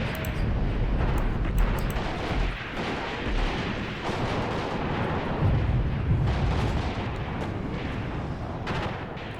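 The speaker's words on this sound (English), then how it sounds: "We are just completely being bombarded there by the Katyushas" Katyusha rocket artillery pounds positions in an Angolan Civil War battle video game, a dense, continuous barrage of heavy booms and rumbling blasts layered over each other without pause.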